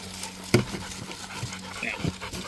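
A dog named Thor pants steadily and close by, rhythmic breaths over outdoor background noise, with a thump and a few small whines mixed in.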